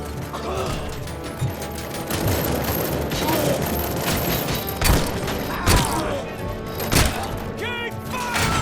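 Gunfire crackles in Robocop: Rogue City, a dense mechanical clatter of rapid shots with sharper cracks punching through every second or so, loud and continuous alongside the game's busy combat noise.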